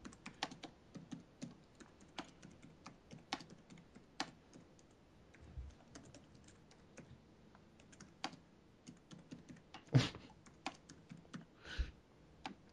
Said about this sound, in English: What the hell are you typing?